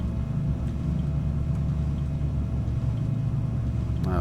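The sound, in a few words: aircraft engines running in a flight simulator video game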